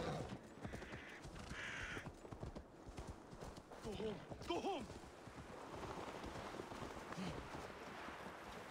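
A horse gallops with rapid, steady clip-clop hoofbeats in the video game Assassin's Creed Valhalla, joined by wind noise and occasional faint whinny-like tones.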